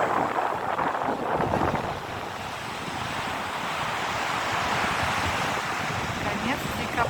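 Sea waves wash onto a beach near Riga in late December as wind whistles and buffets the microphone, a steady, loud, broadband rush with no voices.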